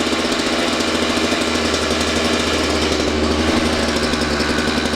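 A two-stroke dirt bike engine runs steadily close by in cold weather, loud and raspy, with a fast buzzing rattle that holds the same pitch throughout; no voices.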